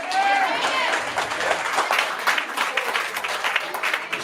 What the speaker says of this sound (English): Would you clap your hand and say amen?